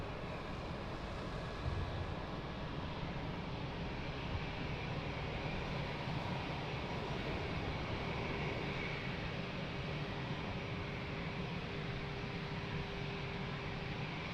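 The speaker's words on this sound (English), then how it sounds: "Nice long takeoff roll." An airliner makes its takeoff roll at Lisbon Airport, producing a steady, unbroken engine roar that holds at an even level throughout with no voices.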